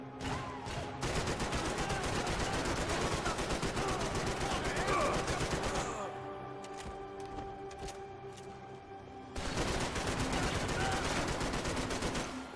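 Gunfire rattles in the Max Payne 3 video game, dense bursts filling the first half before a brief lull and a renewed volley near the end, with a voice speaking over parts of it.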